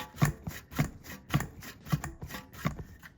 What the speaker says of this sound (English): So I'm pulling the vacuum.